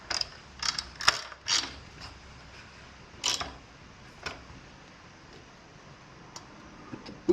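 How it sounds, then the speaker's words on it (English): Quiet ratchet clicks come in short bursts with pauses as a spark plug is tightened into a small junk-pile engine, close by and without talking. "I'm gonna finish screwing the spark plug all the way in."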